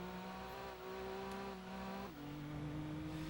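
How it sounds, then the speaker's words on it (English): Car engines in a racing video game police pursuit drone steadily at a sustained pitch, dropping slightly in tone partway through, with no talk over them. "That yellow car is getting suspiciously close to me"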